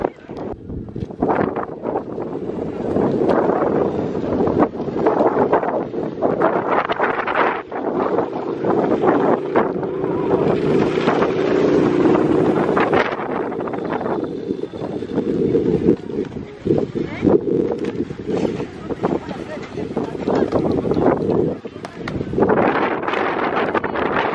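Strong gusty wind at the snowy summit of Mount Buller buffets the microphone in loud, uneven surges, with a brief calmer stretch midway.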